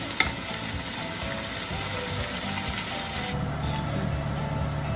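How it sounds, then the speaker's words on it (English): Onions and tomatoes fry in a pan for Indian-style roast ribs, giving a steady, close, dense sizzle with occasional stirring scrapes throughout. "the onions and stuff gone really soft"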